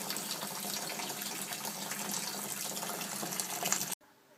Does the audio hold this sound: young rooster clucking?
no